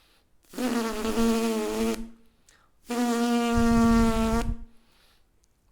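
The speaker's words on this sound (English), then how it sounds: "if I was to close my lips as though I had just said a word ending in the letter M and then blow air through" Two sustained buzzing lip trills, each about a second and a half long, with a short pause between them, close and fairly loud.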